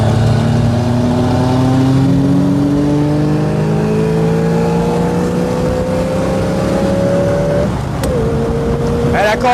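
Corvette race car engine roaring loudly and continuously at close range, pitch climbing steadily through gears with a brief shift dip near the end, other engine sound blending in beneath.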